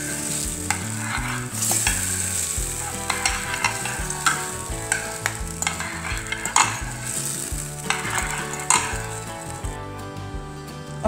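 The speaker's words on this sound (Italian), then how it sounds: "Mescoliamo e formiamo una cremina." Pasta sauce of oven-baked cherry tomatoes and feta is stirred in a pan, giving repeated wet squelching and soft sizzling scrapes at a close, steady rhythm with no talking.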